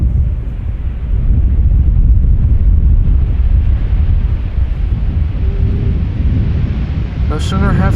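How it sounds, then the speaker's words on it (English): Wind gusting across an open apron at Amsterdam Schiphol Airport, a steady loud low rumble buffeting the microphone throughout, with a brief faint chirp near the end. "No sooner have I said that and the wind is picking up"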